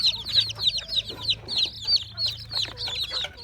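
Hens clucking in quick, repeated bursts, close by, with a low steady hum underneath.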